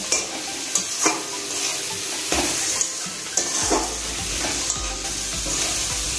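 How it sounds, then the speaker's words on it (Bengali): Spice masala with turmeric and chili powder being stirred in a hot pan: constant sizzling frying with repeated scraping knocks of a spoon against the pan at an irregular rhythm, close and loud, with no talking. "এবার মশলাটা ভালোভাবে নাড়াচাড়া করে দিতে হবে।"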